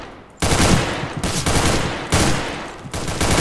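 Gunfire in the video game CS:GO, three loud bursts of rapid automatic shots separated by short pauses, close and dense.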